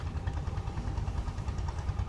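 A 1975 Fiat 640 tractor, Italian-made with a Fiat engine and gearbox, idles close by. Its low pulsing rumble stays steady and unbroken.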